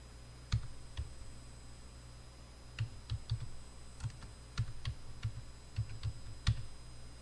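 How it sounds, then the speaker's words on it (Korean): Taps and clicks on a phone screen while text is entered in the KineMaster app, a sparse irregular series of soft, close ticks over a quiet hum, no talking. "여기에 T라고 눌러서 우리는 텍스트를 칩니다"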